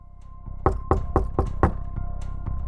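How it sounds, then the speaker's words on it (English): A soft knocking on a front door, about six knuckle raps in an even sequence over a low steady background hum, moderately faint. "a soft, barely audible knock on the front door"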